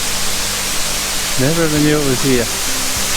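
Ironbark Falls, a waterfall on the Central Coast, sends up a steady, close wash of broadband rushing water. A voice talks over it for part of the time.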